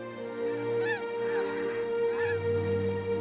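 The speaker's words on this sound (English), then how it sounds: "filming a colony of breeding snow geese" Several snow geese in a breeding colony on Wrangel Island in the Arctic honk in a noisy, overlapping chorus, repeated calls rising over a steady low drone, moderately close.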